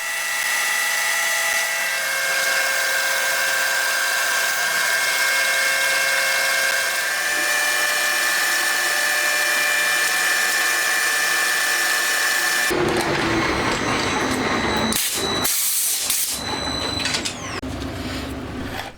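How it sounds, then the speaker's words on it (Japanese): A lathe takes a facing cut on the back face of a homemade camshaft main shaft for a self-built DOHC head, a steady high machining whine running close and continuous before shifting to rougher, broken cutting noise near the end. "ではセットも完了したので裏面を削っていきます。"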